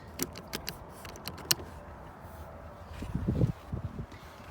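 Car power windows being rolled up and down, heard as a few quiet clicks and short motor whirs, with a louder humming surge near the end; no talking.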